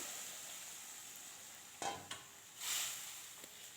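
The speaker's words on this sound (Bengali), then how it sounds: "এবার ঢেলে দিলাম সেই সেদ্ধ করা বেগুন" Boiled eggplant goes into a pan of hot oil for shukto, a quiet ongoing fry broken by a few sharp bursts of sizzle and the knock of a spatula. The whole cooking sound stays faint and there is no speech.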